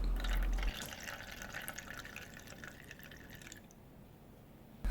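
Water trickles and drips steadily into a cup after being pushed through printer ink lines, a light watery patter that thins and quiets partway through, with no voices.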